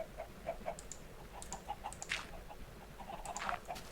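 Minecraft chickens cluck in short repeated bursts with occasional higher squawks, moderately quiet, with a synthetic game-like quality and no speech.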